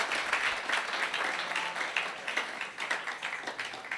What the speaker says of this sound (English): Please, with a round of applause, let's welcome her.